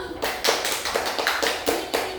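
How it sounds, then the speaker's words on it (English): Students in a classroom clap together in a quick, even rhythm of sharp bursts, close and fairly loud, with no talking. "Give her a clap."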